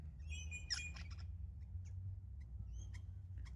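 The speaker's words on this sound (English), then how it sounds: "Oh, they're calling, they're chatting. They're chatting with the other mate, and the one on the fence over there." Small garden birds calling back and forth from nearby, including one perched on a fence, with brief chirps and warbling notes scattered over a quiet outdoor background.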